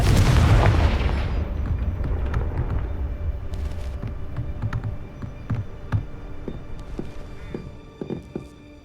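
Confringo fire spell in the video game Hogwarts Legacy exploding with a loud, deep boom that fades over a few seconds, followed by scattered clicks and small impacts and footsteps.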